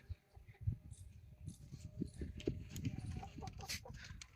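Chickens and a rooster clucking in a small backyard coop built for parrots and hens, with scattered short calls and rustling close by over a steady low background.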